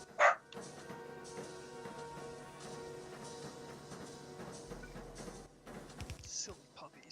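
Puppies bark and yip in a few sharp, fairly close bursts at the start and near the end, with quieter activity and background sound between them.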